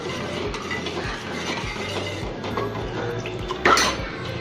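Rice flour appam batter is stirred steadily in a pan, giving a soft rhythmic scraping with light wet sloshes and a brief metallic clink near the end.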